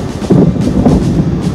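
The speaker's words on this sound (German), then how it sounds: "Es donnerte." Thunder during a thunderstorm off Menorca, heard from a boat at anchor: a loud, deep rumbling roll that swells and continues without a break.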